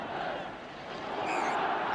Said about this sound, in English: The Villa crowd behind that goal, hopefully cheering for a corner.